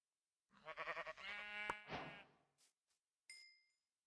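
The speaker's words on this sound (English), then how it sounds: "I think we have several sheep here." Several sheep bleat in a Minecraft game world, a run of quavering, stuttered harmonic cries up close, followed by a few brief game sound effects and a short high tone near the end.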